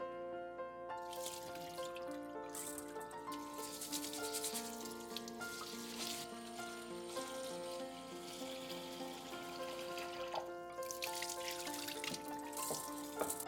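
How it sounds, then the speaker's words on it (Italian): Rice being washed by hand in a bowl of water, gently rubbed so the grains stay whole: steady soft sloshing and dripping water with trickling splashes throughout, close and continuous, no talking. "laviamo il riso strofinandolo con le mani delicatamente per non rompere il chicco"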